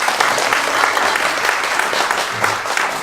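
Guests at a small self-organized wedding applaud in a steady, close burst of clapping that continues without pause.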